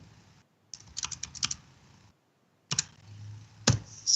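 A computer keyboard tapped in a short burst of keystrokes to type a search keyword, then a pause and a few more isolated clicks, close and clear with no talk.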